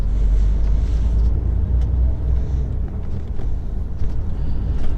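An HGV low loader truck turns around on a fairly flat site. A heavy, steady engine rumble and road noise fill the clip from inside the cab, with no talk over it.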